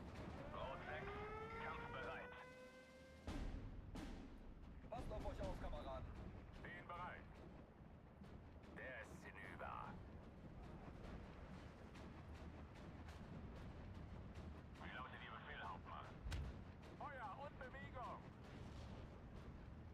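Mortar artillery fire in a real-time strategy war game, booming thuds and blasts repeating over a steady rumble, mixed with other game effects and someone speaking over them.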